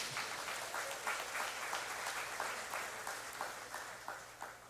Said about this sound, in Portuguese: Vamos dar uma salva de palmas para Ele?